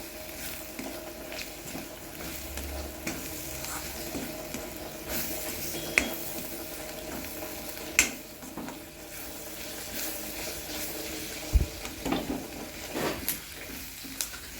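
Ground paste with salt sautéed in a pan, a faint, low sizzle with sporadic scrapes and a few sharper taps of a utensil on the pan over a long stretch.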